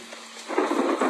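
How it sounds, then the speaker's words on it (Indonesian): Rain and rolling thunder in the game PUBG Mobile build from a quiet hiss into a louder, dense wash of rainfall and low rumble within about a second, with no voices. "Hujan."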